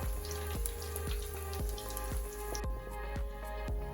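Steady sizzling and popping of coconut shrimp frying in hot oil, with a few sharp taps against a pan, close up and continuous.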